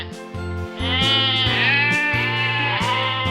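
Merino sheep bleating repeatedly in loud, wavering cries that overlap one another, close by and with no talk.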